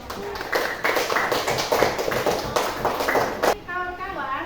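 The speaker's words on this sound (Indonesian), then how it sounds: "Tepuk tangan dulu buat kelompok" Schoolchildren applaud a student group in a classroom, a few seconds of scattered, uneven clapping with voices talking and calling out over it.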